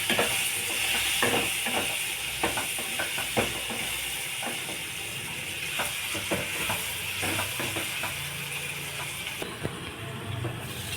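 Chicken curry with salt and turmeric bubbles in a pan on the stove, giving a steady hiss with frequent small pops and crackles, close and continuous, without speech.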